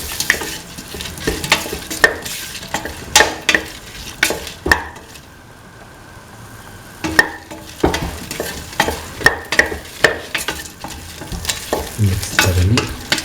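Tomato pieces stirred and frying in a pan for a mung bean and snake gourd coconut milk stew: steady sizzle with repeated utensil scrapes and knocks, a brief quieter pause midway, no talk.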